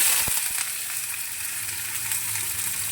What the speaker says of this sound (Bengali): পেঁয়াজ কুচিটা একটু লাল লাল করে ভেজে নিই।